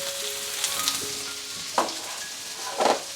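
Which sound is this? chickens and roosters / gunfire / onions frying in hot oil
onions frying in hot oil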